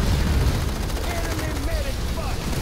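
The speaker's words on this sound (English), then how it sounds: "Guns are blazing." Sustained gunfire in a Planetside 2 battle for a data hub, dense rapid bursts close and loud, with voices talking over the shooting.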